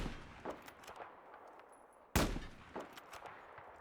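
Sniper rifle shots from an L115 in Battlefield 4, with one loud sharp report near the middle standing out over a few fainter cracks, set against a quiet game backdrop.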